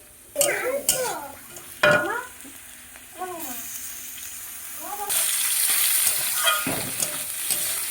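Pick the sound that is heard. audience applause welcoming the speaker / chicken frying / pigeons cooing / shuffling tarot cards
chicken frying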